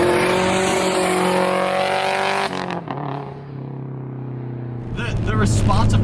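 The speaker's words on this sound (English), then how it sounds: "that external wastegate gets louder depending on how far I push my pedal down" A Subaru STI with an external wastegate pulls hard under throttle with a loud, raspy engine roar, drops off briefly as the pedal lifts, then surges back up.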